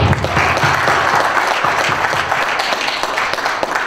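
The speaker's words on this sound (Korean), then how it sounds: "행복의 박수, 기쁨의 박수 보내주시면 감사하겠습니다" A crowd applauds steadily at a merchants' association president inauguration ceremony in Wangsimni, Seoul, dense clapping filling the whole stretch at close range with no pauses.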